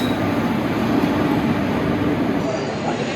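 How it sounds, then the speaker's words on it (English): A train rumbles into a station in India, a steady loud roar of rolling carriages with faint voices mixed underneath. "Train's here"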